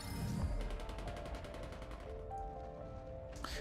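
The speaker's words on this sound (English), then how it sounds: "Gunfire rings out." Gunfire in the game Goddess of Victory: Nikke, a rapid fusillade of repeated shots rattling steadily for a couple of seconds, then fading into a low hum with a sharp burst near the end.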